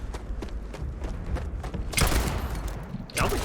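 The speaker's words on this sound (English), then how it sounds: "Sounds like a shotgun." Shotgun-like gunfire in the space game Starfield, a burst of heavy thumping shots in quick succession with louder blasts near the end, over a busy combat backdrop.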